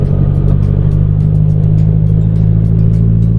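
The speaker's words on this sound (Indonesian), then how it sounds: "Nah ini kan ada truk nih. Dia nguasain jalan guys, saya nggak bisa nyelip." A truck driving along the road, its engine a loud, steady low drone close by throughout, with no talking.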